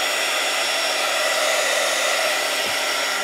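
A heat tool blows steadily to dry ink on a mixed-media craft project, a loud, continuous whooshing hum with no other sounds.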